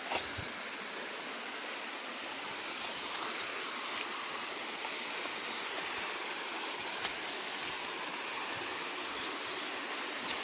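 A river flows with a steady, broad rushing wash, constant and fairly close, filling the whole stretch with no speech.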